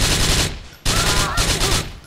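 Continuous loud gunfire in GTA 4 during a street shootout, rapid bursts rattling almost without a break, cut by one short pause before the firing resumes close and dense.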